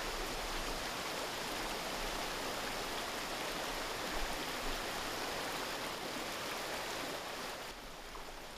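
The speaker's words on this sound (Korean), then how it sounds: "숲 어디서나 들을 수 있는 경쾌한 계곡 물소리" Continuous bright rush of a mountain stream in old-growth forest at Gombaeryeong, South Korea, over 1000 m up, water tumbling steadily over rocks nearby, loud and unbroken throughout.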